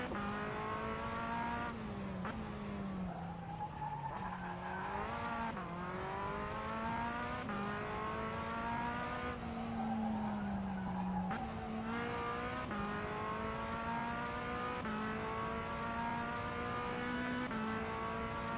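A race car in rFactor 2 drives hard, its loud, close engine howling through repeated gear changes with rising and falling revs. The tone runs steadily for the whole stretch, with no talk.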